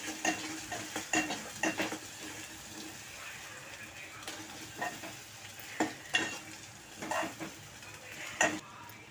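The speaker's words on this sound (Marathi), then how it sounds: "तर आपण सुकं खोबर भाजून वाटून घेतले आहे. टाकूया. मिक्स करूया." Ground roasted dried coconut stirred into chicken masala frying in oil, a steady sizzle broken by repeated scraping and clattering strokes of a spoon against the pot, close and fairly loud.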